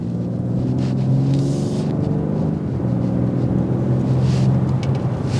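A 2024 BMW X4 M Competition crossover drives with its exhaust droning in a deep, steady rumble, loud and close, the tone rising and settling slightly as the engine pulls along.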